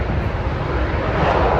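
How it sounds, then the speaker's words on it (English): Airplane engine drone at a foggy airport, a steady broad roar heard alone with no speech. "Airplane."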